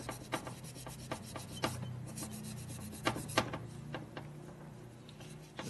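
Rag rubbing over the metal of a 1967 Harley-Davidson 74ci Shovelhead engine block during a motor rebuild, heard as a steady soft scrubbing with a series of sharper rasping strokes, close and moderately quiet, with no talking.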